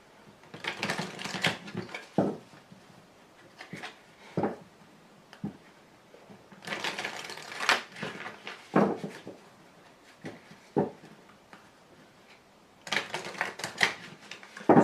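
Tarot cards are shuffled and laid out on a table in repeated bursts of rapid riffling and slapping, each followed by a single soft card placed down, close and crisp with pauses between.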